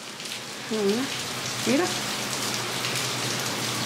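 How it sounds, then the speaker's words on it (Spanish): Heavy rain falls steadily as a dense, even hiss throughout, with a voice speaking briefly early on and a couple of short rising whistle-like tones over the downpour. "estoy escuchando que está lloviendo más fuerte"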